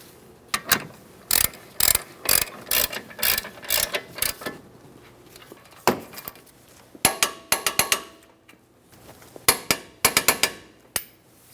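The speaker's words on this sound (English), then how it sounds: "Start them in, snug them up, torque those to 100 foot-pounds." A ratchet clicks in quick bursts as it snugs up the brake caliper bracket bolts on a 2008-2012 Jeep Liberty, with sharp metallic ratcheting in irregular runs and some clinks in between.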